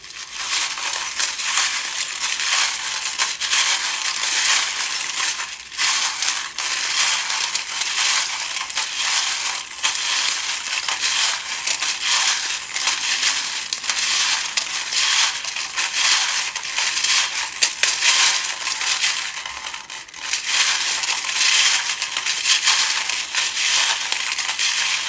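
Small metal charms shaken and cast for a tarot-style reading, giving a steady, dense jingling and rattling that runs without pause for the whole stretch, fairly loud and close, with no voices.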